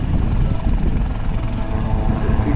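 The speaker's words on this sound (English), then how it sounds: "New generation helicopter packed with cutting edge sensors and mission equipment." An AW159 Wildcat helicopter flying a display at Southport Airshow 2022 makes a steady, loud rotor and engine drone that holds throughout with no talk over it.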